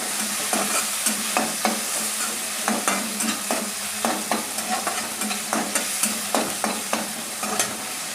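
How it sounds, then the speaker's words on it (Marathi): Tomatoes sizzling in hot oil while being stirred in a pan for a green chickpea vegetable dish, a steady frying hiss broken by regular scraping strokes of the spoon, close up with no talking. "आता यामध्ये मी हे टोमॅटो टाकणार आहे आता टोमॅटो छान म्हणजे नरम करून घ्यायचा तेलावर"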